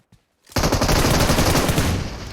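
An AK rifle fires in PUBG Mobile, opening after a brief quiet pause into a loud, sustained rapid burst of automatic gunfire that runs to the end.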